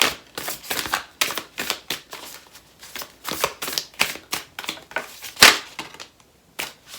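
Tarot cards being pulled and shuffled from a deck, a close series of crisp papery snaps and riffles in uneven bursts, with brief pauses between them.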